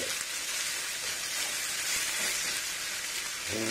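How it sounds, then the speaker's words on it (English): Sliced potato for a potato omelette with coriander sizzles steadily in hot oil in a frying pan, a close, continuous hiss and crackle with no talking. "You can hear how the potato sizzles."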